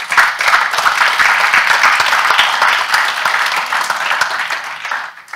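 Dense, steady applause from an audience at a budget review event, close and sustained for several seconds before tapering slightly at the end, with no voices over it.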